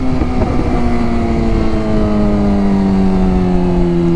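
Suzuki GSX-R 600 motorcycle engine while riding on twisty roads, a loud continuous high-revving drone with steady tone that slowly drops in pitch, wind rushing underneath.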